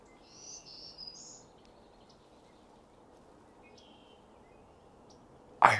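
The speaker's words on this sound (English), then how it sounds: "I heard a bird. I actually heard a bird." A bird calls outdoors in short high chirps, a few brief faint bursts over a low steady background hiss, followed by a sudden loud knock at the end.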